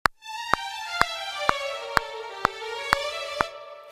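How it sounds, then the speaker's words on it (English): Legato sustained virtual instrument line in a MIDI sequencer, slowly descending, with sharp metronome clicks ticking evenly about twice a second; the sustained notes lag behind the beat, quiet and clean. "So you could hear that that line was significantly behind the click."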